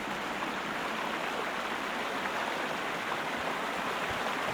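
Loud, steady rush of flowing water in the Sherlock Holmes: Crimes and Punishments video game, set among the ruins of an old Roman city, a dense unbroken roar that fills the whole stretch with no voices over it.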